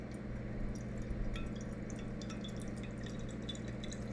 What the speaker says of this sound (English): Can you hear that splashing?